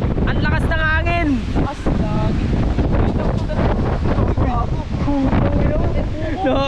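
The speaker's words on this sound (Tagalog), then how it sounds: "Ang lakas ng hangin." Strong wind buffets the microphone on a Palawan beach during a storm, a constant loud roar with gusts, while people talk and exclaim over it throughout.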